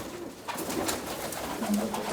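A kept pigeon coos faintly, with a few soft low calls over quiet background and no speech.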